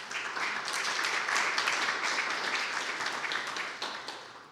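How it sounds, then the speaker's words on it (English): Audience applause for the staff at an evening member event in the Frye Museum, a dense, steady wash of many hands clapping at moderate distance that holds for several seconds before beginning to thin. "let's give a round of applause to this Frye staff."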